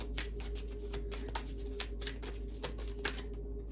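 Tarot cards being shuffled and drawn from a deck, a series of soft riffling and snapping card sounds in an irregular rhythm over a low steady hum.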